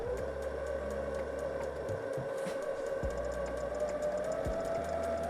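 A budget sewing machine running stitch 2 with a standard needle through thin polyester fabric, giving a steady whirring hum with a rapid mechanical needle chatter, close and continuous and broken by a few short clunks.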